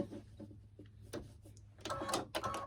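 A sewing machine stitches down houndstooth fabric, heard as quiet, uneven bursts of mechanical clatter over a steady low hum, growing busier and denser toward the end.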